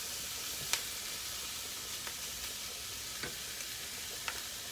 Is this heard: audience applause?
no